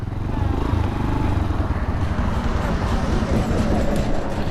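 A motorcycle engine is being kick-started and then rumbles steadily up close, a continuous low, rough throb with people talking over it.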